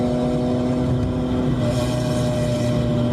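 A Mercedes CLK GTR supercar engine roars continuously, a dense mid-pitched drone that swells slightly partway through, with no talking over it.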